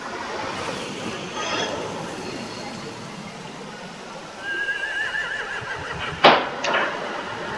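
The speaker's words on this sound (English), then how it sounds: "They have horses." Horses whinny and neigh in The Walking Dead Telltale video game, one clear neigh rising midway over ambient noise, followed by a sharp knock and a few clopping hooves near the end.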